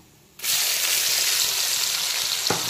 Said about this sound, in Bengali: পেঁয়াজ কুচিটাকে হালকা বাদামি কালার করে ভেজে নিতে হবে